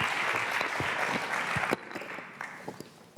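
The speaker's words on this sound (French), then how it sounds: "je cède la parole à Lise Michel et Valentine Robert, que vous pouvez aussi applaudir" Applause from a cinémathèque audience welcoming speakers at an opening evening on Molière in theatre and film, a full round of clapping that breaks off abruptly, leaving a few scattered claps and faint murmurs.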